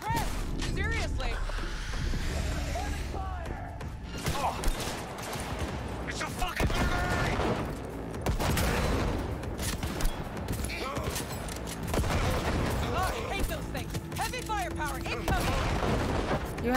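Firefight gunfire in Cyberpunk 2077 on hard difficulty, with rapid bursts and scattered shots over a busy mix of combat noise, while voices talk throughout.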